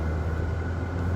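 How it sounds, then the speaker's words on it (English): Car air conditioning runs inside the vehicle, giving a steady low rumbling hum with a constant airy hiss above it, close and continuous, with no talking. "I hope you can hear me over my air conditioning."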